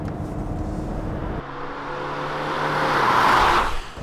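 A 2022 Hyundai Staria rear-drive van is being driven. Steady engine and road noise builds into louder acceleration, with a brief tire-squeal-like rise near the end.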